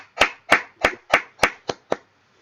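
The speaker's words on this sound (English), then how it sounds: "with a big round of applause" Clapping at a Toastmasters humorous and table topics contest: seven crisp, evenly spaced claps from close by, steady in rhythm and then stopping abruptly into silence.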